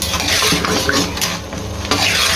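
Yogurt and black pepper being stirred together in a pot for mutton karahi, a steady scraping and swishing of a spoon against metal at close range, with no talking.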